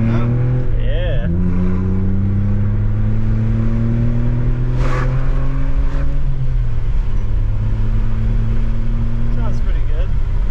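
A ZHP car engine with a valved Turner exhaust hums steadily, its pitch rising and dropping with gear changes, and the exhaust sounds deep and throaty. A voice speaks briefly over it.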